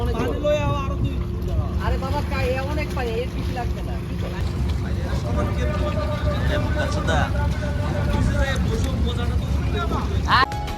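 A hired trawler boat's engine drones steadily and loudly under wind and water noise, with people talking over it for much of the time.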